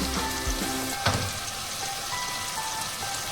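Curry leaves and turmeric frying in a pan for soybean curry, giving a steady, close hiss of hot oil with a brief clink near the start and no voices.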